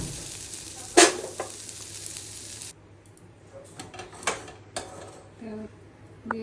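Dried red chilli, cardamom, cinnamon and bay leaf crackle and sizzle in hot oil, a steady frying hiss with a sharp spit near the start, then quieter popping and scraping stirs in a pan.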